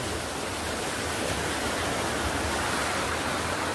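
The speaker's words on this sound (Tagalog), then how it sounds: "Ayan, may ilog dito." A river flowing in Barangay Puting Bato, Agusan del Norte, heard as a steady, full rushing wash of water that stays even and close throughout with no other sounds.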